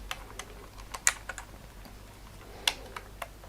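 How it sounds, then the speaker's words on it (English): An Olympus XA compact film camera is rewound by hand, giving faint, irregular small clicks and ticks spread over a few seconds with no voices. "To rewind, at the end of the film,"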